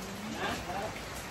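Afternoon rain falls steadily in the Philippines, a dense even hiss of drops on surfaces with no break, moderately close and filling the whole short stretch.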